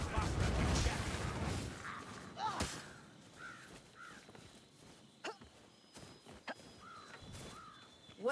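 Blackbirds caw in Warhammer Vermintide, several separate calls scattered across the stretch over quiet game ambience, following a loud burst at the start.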